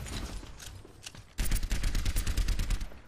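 Rapid gunfire from the video game Overwatch rattles in dense bursts, first a sparse stretch and then a loud, sustained volley of shots.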